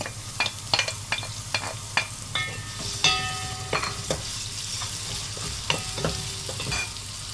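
Diced onion sizzling in a spoonful of ghee over oil, a steady close fry with a string of sharp clinks and scrapes from a spoon stirring the pan, no voices.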